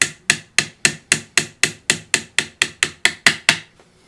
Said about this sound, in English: This is a plastic or a rubber mallet.